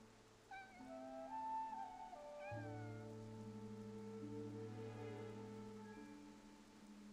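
A few high, drawn-out cat meows in the video game Infinity Nikki, over a quiet backdrop of steady synthetic tones from the game soundtrack, with a soft hiss throughout.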